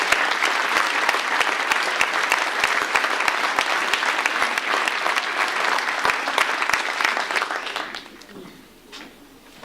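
School awards audience at a 2012 certificate of achievement ceremony breaks into steady, dense applause for several seconds, loud and close, before the clapping thins out and fades near the end.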